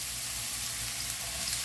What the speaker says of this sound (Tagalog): lulutuin natin ang ating sibuyas